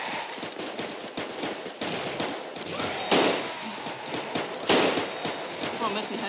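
Rapid gunfire from sniping in the Roblox shooter game, a steady burst of cracks with two louder shots standing out, heard under an excited voice talking.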